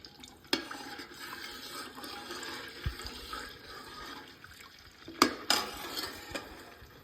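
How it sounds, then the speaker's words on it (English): Lye being stirred into tallow oil for shave soap, a soft sloshing liquid swirl with a few sharp clinks of a utensil against the pot, close up and fairly quiet. "I'm gonna slowly start adding lye as I stir"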